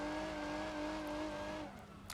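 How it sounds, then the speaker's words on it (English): A V6 car in BeamNG Drive holds a steady, high engine whine while spinning donuts, tires squealing along, before the revs drop off and the noise fades near the end. "it makes a load of V6 noise"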